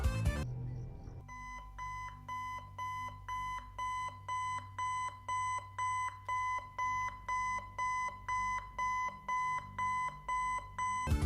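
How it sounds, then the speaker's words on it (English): A digital alarm clock from the video game FNAF 4 beeps in a steady repeating pattern of bright electronic tones, loud and continuous with no voices. "A digital alarm clock."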